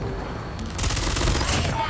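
The FFAR 1 assault rifle in a first-person shooter firing a fast continuous automatic burst, loud and steady for nearly two seconds, mixed with other game noise.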